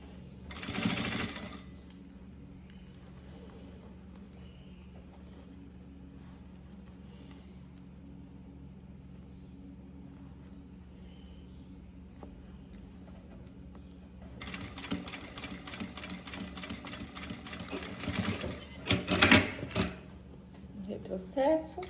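A sewing machine stitches a bag organizer in a short burst, pauses through a long quiet stretch, then runs again in rapid mechanical bursts as the seam is backstitched, close and clear.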